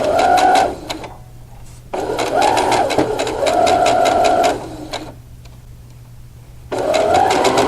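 Sewing machine stitching fabric pieces in three loud, steady bursts of rapid mechanical whirring, separated by short pauses with a faint background hum.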